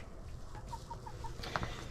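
Backyard chickens in a snowy winter coop give a short run of soft, rhythmic clucks, quiet and close against a low background hum, ending with a brief sharper squawk.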